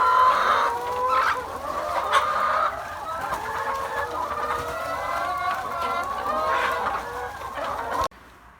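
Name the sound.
laying hens clucking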